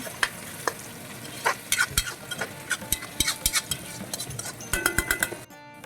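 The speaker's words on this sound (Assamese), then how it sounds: "ইফালে এইটো ফ্ৰাই হৈ গৈছে আপোনাৰ তেলটো এৰি দিছে লগতে বিলাহী পেষ্ট বিলাহী ঘৰৰ গ্ৰাইণ্ড কৰা দি দিছে" Homemade ground tomato paste fries in oil, a steady sizzle broken by scattered clinks and scrapes of a spoon stirring against the pan, close and moderately loud.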